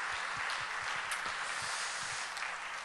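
A church congregation claps together in blessing for the worship musicians, a faint, even wash of applause from a large room that carries on for a few seconds.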